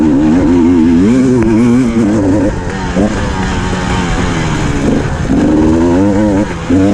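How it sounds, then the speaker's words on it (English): Enduro dirt bike engine lugging in a high gear on a muddy off-road track, a loud close steady drone with wavering pitch, slight dips and surges in throttle, running continuously. "Just trying to keep it up a gear so the bike's just lugging a bit, not spinning that back wheel."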